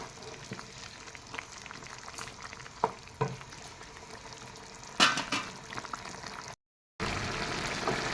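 Soft bubbling and gentle sizzling from a pan of fish curry with green peas and tomato, quiet and close, with a few clinks of a utensil stirring partway through.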